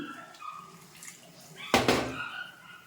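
Soft kitchen clatter, then a short splashing pour of leftover blender-rinse water into a pan of cooking pirandai (adamant creeper) relish that fades out after about half a second.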